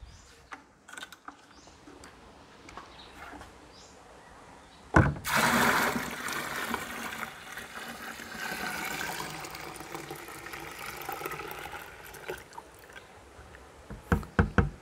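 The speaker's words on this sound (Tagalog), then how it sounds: "lagay na natin yung 10 liters ng water" Ten liters of water pour into a container while a lactic acid bacteria serum is being made, a steady splashing gush running for several seconds after a sudden start, with a few clunks at the end.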